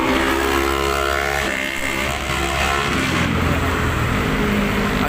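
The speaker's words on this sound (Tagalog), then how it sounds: "Ang ingay ng motor." Motorcycle engine passing close on a road along the Manila Bay baywalk, a loud continuous droning roar with shifting pitch that swells and fades, dominating the scene.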